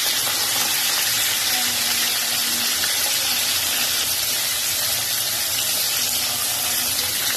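Bangda (mackerel) fish frying in hot oil in a home kitchen pan, cooked until crispy; a steady, dense sizzle and hiss continues unbroken throughout at close range, with no talking.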